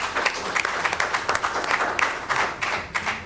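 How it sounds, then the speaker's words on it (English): Hand clapping from an audience at a monthly community meeting, a steady patter of many claps lasting a few seconds at moderate volume with no talk over it. "Somebody give a hand clap,"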